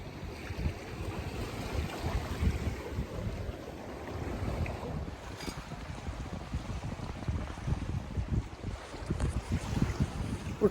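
A sailboat cruises under sail at about five knots ahead of a following breeze, with steady wind rush and wind buffeting on the microphone over continuous water swishing and wave wash along the hull throughout.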